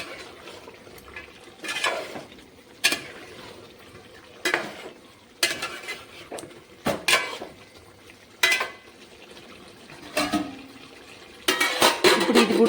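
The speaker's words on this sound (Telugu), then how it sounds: "కారం వేసేసి మొత్తం కలిపెట్టేసుకోవాలి." Chili powder is stirred into gongura chicken in a pan with a spoon, giving sharp scraping strokes at irregular intervals. Faint sizzling of the cooking food sits underneath, and the sounds are close, with no talk.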